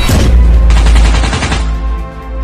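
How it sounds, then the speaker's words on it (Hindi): Loud, dense bursts of rapid automatic gunfire in the video game Free Fire, sharp and continuous for a couple of seconds, with a booming low end. "गोलियों की बरसात कर देते हैं"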